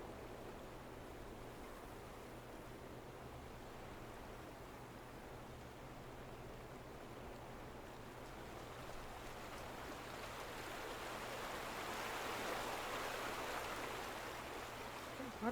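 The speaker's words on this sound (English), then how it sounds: "The water is so loud." Steady broadband rush of flowing water in the video game The Vanishing of Ethan Carter, loud and continuous throughout, swelling slightly toward the end, with no talk over it.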